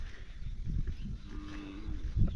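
Grazing cows on pasture let out a low, faint moo, with soft rustling and outdoor background noise throughout.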